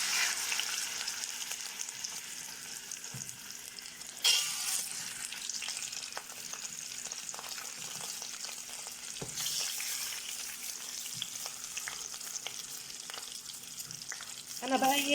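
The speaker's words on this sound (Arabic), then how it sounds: "انا بقى ايه اخلي الفراخ تتحمر كده في الزبده" Chicken pieces fry in butter on a lowered stovetop flame, a dense, continuous crackling sizzle that runs steadily throughout with occasional louder spatters and a voice speaking faintly at times.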